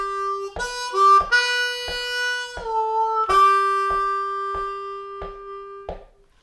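Harmonica in 2nd position plays a lick from Amazing Grace, a series of clear sustained notes with sharp breaks between them, close and loud with no talking.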